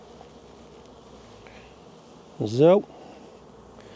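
Honeybees in a Mini Plus hive at a spring inspection, smoke in use, give one short, loud buzzing burst of about half a second over low background noise, with a brief spoken word just before.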